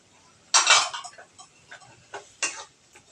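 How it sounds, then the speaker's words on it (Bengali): Stirring boiled banana flower in a cooking pan: a few short scraping clinks of a utensil against the pan, with one louder stroke followed by lighter taps spread over a few seconds. "মোচা দিয়ে একটু নাড়াচাড়া করে নেব"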